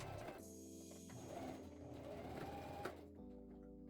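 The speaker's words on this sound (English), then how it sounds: "Now you want to overlap your elastic and sew it together to create a circle" A sewing machine stitches overlapped elastic into a circle for toddler shorts, running in one steady, fairly quiet mechanical hum with rapid needle chatter throughout.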